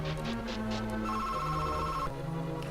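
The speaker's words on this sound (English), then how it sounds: "that's a fucking phone." A telephone rings loudly and steadily alongside background music from The Legend of Zelda: A Link to the Past, the bell tone repeating with no voices.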